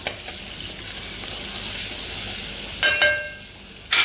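Turmeric and spices fry with cooked ginger and garlic in a hot pan, a continuous sizzle with spoon scrapes and a couple of louder clatters near the end.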